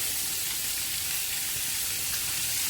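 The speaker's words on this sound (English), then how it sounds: "Your butter will happily melt." Butter melts in a hot pan beside mashed potatoes, giving off a steady, close, even sizzle with a soft hiss throughout and no talking.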